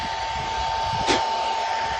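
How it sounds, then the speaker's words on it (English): A hair dryer blows steadily with a constant whirring hum and airy rush, with a brief louder puff about midway through. "Just take the hair dryer and once again,"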